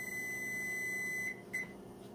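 A steady high electronic beep from an oven timer sounds continuously, then cuts off and gives one short final chirp, close and moderately loud.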